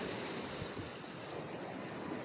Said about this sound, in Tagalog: Kalma yung dagat, pero yung hangin malakas.